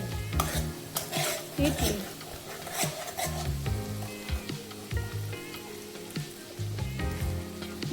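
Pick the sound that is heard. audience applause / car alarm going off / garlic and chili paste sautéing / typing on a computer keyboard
garlic and chili paste sautéing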